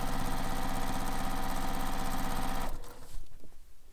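A sewing machine stitches bag handles in one fast, continuous close run that stops abruptly near the end, leaving faint handling noise and no speech.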